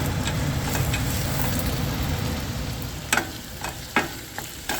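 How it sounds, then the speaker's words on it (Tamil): Tomatoes sautéing in a pan for tomato chutney give a steady, close broadband sizzle with a few sharp utensil clicks near the end, no voices. "இப்போ இதுவும் ஒரு அஞ்சு நிமிஷம் வதங்கட்டும்"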